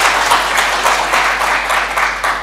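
Church congregation applauding in thanks to God, loud dense clapping from a large crowd, sustained and close.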